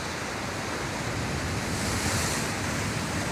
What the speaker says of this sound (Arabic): والبحر طالع شويه طالع